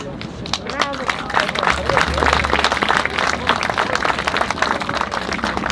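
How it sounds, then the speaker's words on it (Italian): A crowd applauds at the inauguration of a footbridge over the Malone torrent, dense sustained clapping that swells in the middle, with a voice talking over it. "Oltre al sottoscritto dovete fare l'applauso a tutte queste persone"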